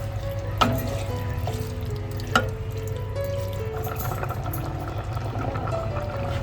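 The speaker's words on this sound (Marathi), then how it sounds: "थोडं पाणी ऍड करून घेतोय" Water is poured into a pan of clam curry being cooked at home, a steady liquid trickle and sizzle with two sharp clinks of a utensil against the pot.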